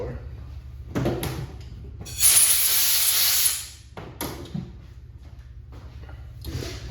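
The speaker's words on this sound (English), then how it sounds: "We'll move over here and blow it out with air blower." A compressed-air blower gives a loud, steady hiss for about a second and a half while it blows out a freshly drilled Pontiac distributor bushing, framed by bench clatter and handling noises in a workshop.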